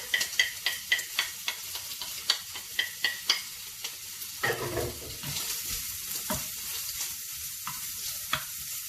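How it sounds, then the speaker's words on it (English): Onion and bacon sizzle steadily in a hot pan, with repeated sharp scraping taps of a utensil stirring, then a louder burst of frying. "Okay, well that's frying off."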